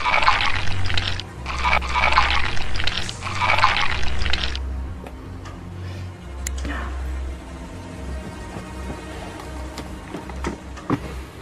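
Taps running in a horror video game gush out in three loud surges of splashing water, then fade to a faint trickle under a quiet background.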